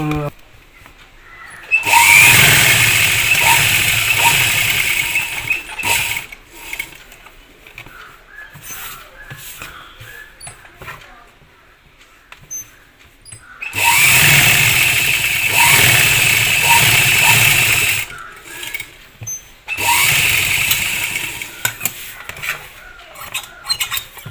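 A sewing machine stitches a V neck on fabric, its motor running in three sustained bursts with short pauses between, fairly loud and close.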